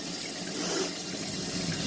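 Running water pours and splashes steadily as rice is rinsed, a close, continuous gushing with slight surges.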